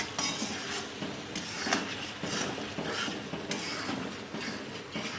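Softened tomatoes stirred in a cooking pot on low heat for a chicken handi: a spoon scrapes and clinks against the metal pot in a steady rhythm, close by, with a faint sizzle underneath.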